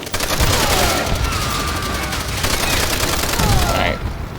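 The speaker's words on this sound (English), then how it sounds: "Shoot those barrels!" Rapid gunfire at explosive barrels in the World War II shooter game Call of Duty: World at War, a loud continuous fusillade of shots with sharp bursts layered over a dense battle din.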